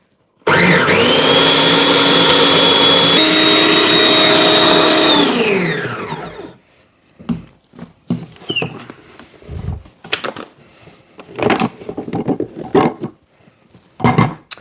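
A blender grinds oats into a fine colloidal oatmeal powder with a loud, steady high whine for about six seconds, then winds down and stops, followed by bumps and rattles as the jug is handled and shaken.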